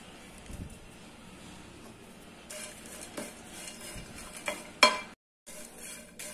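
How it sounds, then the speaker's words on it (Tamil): Dried drumstick pulp being stirred in a pan over gentle heat, with soft scraping and a light sizzle, a few louder clinks of utensil on pan, and a brief moment of silence. No one speaks. "நான் காஞ்சி வச்ச இந்த முருங்காய் சதைய போட்டு லைட்டா சூடு மட்டும் ஏற்றிக்கலாம்."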